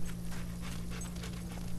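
In the video game Fable 2, a dog pants in steady quick breaths over a constant low game hum, with no talk.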